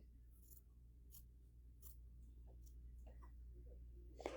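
Several quick scissor snips through quilting fabric, crisp and close, spaced irregularly over a low steady room hum.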